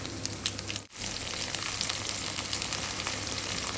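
Okra crackles and hisses as it fries in oil, a steady close sizzle with one brief dip in sound near the start.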